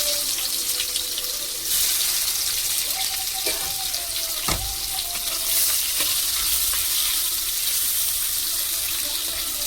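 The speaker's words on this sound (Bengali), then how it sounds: "পেঁয়াজ কুচি রেখেছি, পেঁয়াজটা দিয়ে দিচ্ছি।" Chopped onion dropped into hot oil for a Bengali rohu fish curry, a loud continuous sizzle and crackle with occasional stirring clinks, no voices.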